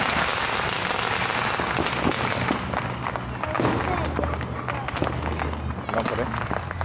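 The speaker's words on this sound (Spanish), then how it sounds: "los cohetes vamos a grabar" Christmas night fireworks and firecrackers in Moyobamba, a dense, continuous crackle of pops and bangs near and far, with excited voices talking over the barrage.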